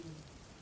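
Rain falling steadily, a soft, faint wash of patter with no other sounds.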